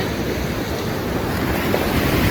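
Black Sea waves washing onto a beach at Chornomorsk in winter, a steady, loud broadband surf roar with gusty wind buffeting the microphone throughout.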